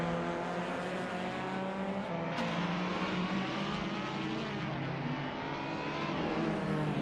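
Race car engines in a racing video game, including a 2012 Lada Granta, steady revving whine with shifting pitch and a brief dip mid-clip, continuous and moderately loud with no talk.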